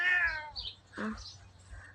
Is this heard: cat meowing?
yes